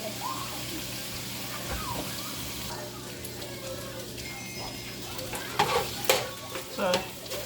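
Hamburger meat frying and stirred in a pan, a steady close sizzle with scraping stir strokes and a few louder clatters near the end, no talk over it.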